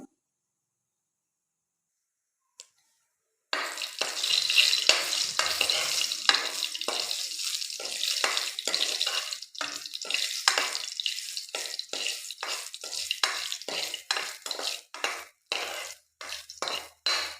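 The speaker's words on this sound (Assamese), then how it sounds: "মই ইয়াত শুকান জলকীয়াখিনি ভাজি ল'ম।" Dried red chillies frying in hot oil in a home kitchen, a steady crackling sizzle that starts abruptly after a short silence and carries on close and loud with bursts of spattering.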